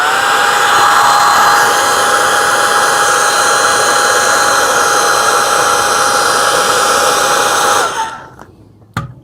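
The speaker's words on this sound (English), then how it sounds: "And then you take the hair blower." A hair blower roars loudly and steadily at close range with a high whine, then cuts off near the end and a few clunks follow.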